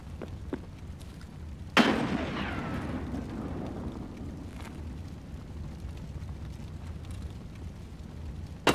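A grenade blast in Escape From Tarkov, one sharp loud explosion with a long rumbling decay, then low ambient rumble and faint gunfire-like ticks, with a second small thump at the very end.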